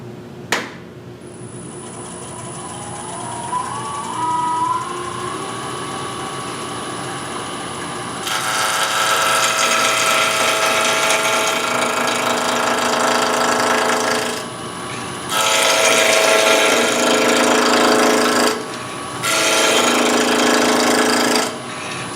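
Wood turning on a lathe, a roughing gouge cutting a scoop: a steady loud cutting roar with a high whine, pausing briefly twice as the tool lifts off the wood.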